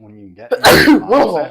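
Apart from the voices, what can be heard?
sneeze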